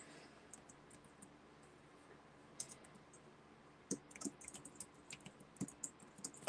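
Typing on a computer keyboard during a live crafting stream, quiet scattered keystrokes at first, then a quicker run of sharper clicks, close by over a faint room hum with no talk.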